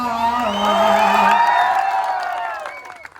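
A large crowd at a rally welcoming an MLA with singers erupts in loud cheering, whoops and shouts mixed with clapping, close and sustained before tapering off.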